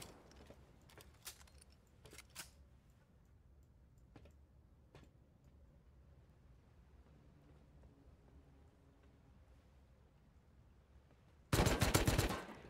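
Gunfire in the survival game Rust: scattered single shots crack out over a quiet stretch, followed by a sudden loud, sustained burst of rapid fire at the end.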